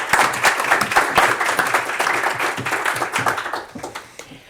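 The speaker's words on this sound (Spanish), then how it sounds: "Vamos a recibirles con un aplauso." An audience claps to welcome the president and vice president of DAMA, a Spanish rights-management body, onstage at a screenwriters' network presentation. The applause is dense and steady, then thins toward the end.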